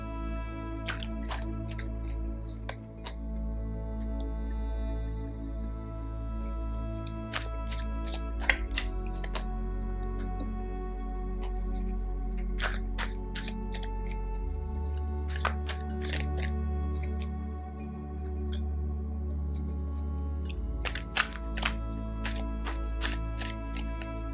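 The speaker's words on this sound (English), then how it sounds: "I also have the Weaver Tarot deck here, so I'm just going to shuffle it" Soft, steady shuffling of a tarot deck with intermittent crisp riffles and taps, close and unhurried over a low background hum.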